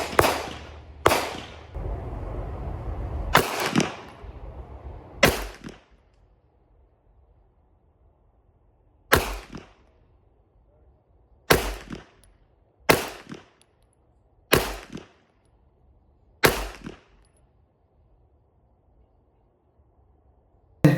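Close, loud 9mm pistol reports from a Canik Mete MC9 Prime being sighted in at about 7 yards, a string of ten sharp shots at uneven intervals, some in quick pairs, others after pauses of a few seconds.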